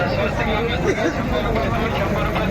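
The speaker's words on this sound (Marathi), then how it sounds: "भरपूर भरपूर भरपूर गर्दी भरपूर आहे" At a crowded Aryadurga temple fair in Konkan, a steady wash of overlapping voices and chatter surrounds the listener, loud and close throughout.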